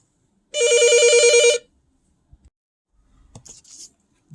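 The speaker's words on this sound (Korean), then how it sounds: "방금 전화가 왔었죠." A telephone rings once in a single bright, rapidly trilling electronic burst of about a second, loud and alone, followed by quiet with a few faint taps and rustles.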